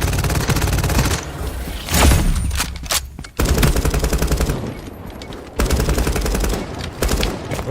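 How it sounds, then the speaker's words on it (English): Rapid automatic gunfire from the shooter video game FragPunk, loud, dense bursts of repeated shots with brief gaps and a heavy boom between volleys. "What are they shooting at over there?"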